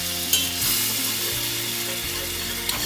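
Butter and all-purpose flour cook together in a pan over medium-high heat, giving a steady close sizzle with scraping stirring strokes running through it and no voices.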